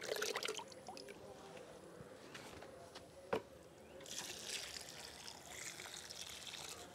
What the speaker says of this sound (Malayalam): അപ്പോൾ നമുക്കിത് ഒഴിച്ചു കൊടുക്കാം. ഇത് ചെടി ചട്ടി മുഴുവൻ നിറയത്തക്ക രീതിയിൽ വേണം ഒഴിച്ചു കൊടുക്കാൻ.